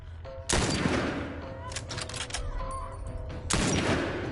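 A sniper rifle fires at clickers in a sewer level of a PS5 survival game, two loud, sharp cracks about three seconds apart, with rattling echoes and faint game sounds in between.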